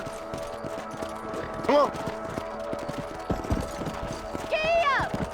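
Horse hoofbeats from riding in Red Dead Redemption, a steady clip-clop rhythm with a couple of whinnies over background music, with someone speaking briefly.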